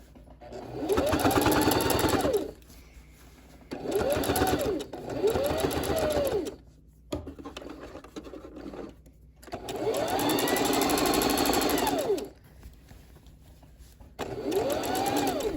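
A sewing machine stitches a quilted coat's lining and exterior together in repeated bursts of several seconds each, its motor whine rising and falling with pauses between seams.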